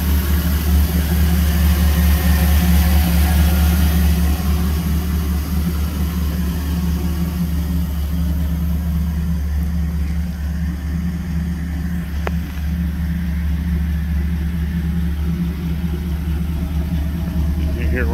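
A freshly built 1979 Jeep CJ7 idles steadily nearby, a low, even engine rumble holding for the whole stretch with slight swells, no voices over it.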